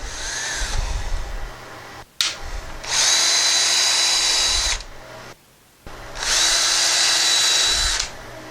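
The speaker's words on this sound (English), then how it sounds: "So we'll pre-drill that and then we'll hammer in a finishing nail." A power drill whirs in two sustained bursts, pre-drilling wood for a finishing nail while installing a pocket door, with a high steady whine, separated by short pauses and a brief trigger rev.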